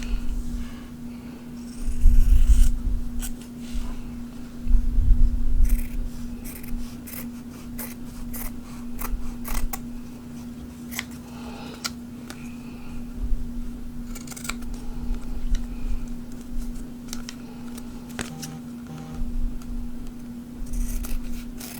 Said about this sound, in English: I'm going to cut away the excess for now.